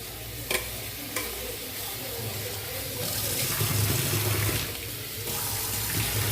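Long-cut potato strips for French fries are rinsed under a running kitchen tap, giving a steady, close rush of water into the sink with a few brief clatters, and no talking.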